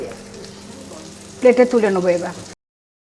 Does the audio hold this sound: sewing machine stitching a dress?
no